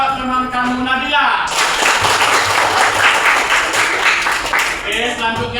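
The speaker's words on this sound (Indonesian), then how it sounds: "tepuk tangan buat teman kamu Nabila" Students in a junior high school classroom give a burst of hand-clapping applause for a classmate, loud and dense for several seconds, framed by a teacher talking before and after.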